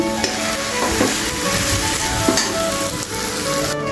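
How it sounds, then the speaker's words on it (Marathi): Aliv ladoo filling of garden cress seeds being stirred and sautéed in a pan, a continuous close sizzle with scraping strokes of the spatula, no voices. "पूर्ण याचा गोळा होईपर्यंत व्यवस्थित असं आपल्याला हे परतून घ्यायचं आहे"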